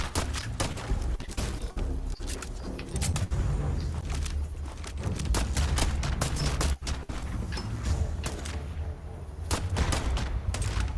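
Rapid gunfire bursts from a firefight in the space game Starfield, near and loud, with sharp repeated shots and thuds packed densely across the whole stretch over a steady game soundtrack.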